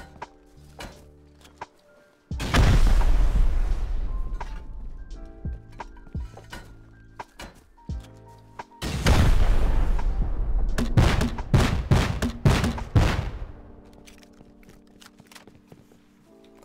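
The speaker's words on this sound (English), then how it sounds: "Got shot with a semi." Semi-automatic rifle fire in the game Rust: two loud bursts of rapid shots, each with a booming tail, separated by scattered single cracks and footstep-like taps.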